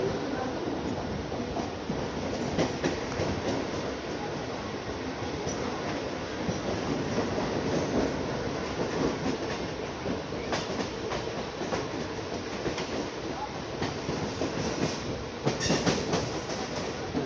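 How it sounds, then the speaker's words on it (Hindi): A Mumbai local train runs on the CSMT–Kalyan line, with a steady loud roar of rolling stock and wheels and occasional rhythmic clatter over rail joints throughout. "ये देखते हैं कितना फास्ट गजब की ट्रेन है भाई मुंबई की लोकल।"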